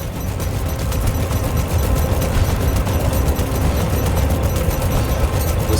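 Dense, continuous gunfire in space from a Star Citizen trailer, a steady loud clatter of rapid shots and impacts running throughout with no pauses.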